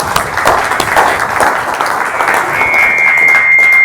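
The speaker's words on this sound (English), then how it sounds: "I think we should give him a round of applause anyway" A conference audience applauds, with steady clapping that continues for several seconds and rises slightly toward the end, and a faint tone is heard underneath.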